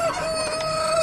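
Chickens cluck and a rooster crows nearby on a farm with several breeds of hens, a sustained tonal crow over soft clucking, close and fairly loud throughout.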